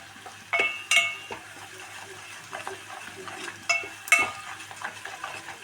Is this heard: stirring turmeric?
yes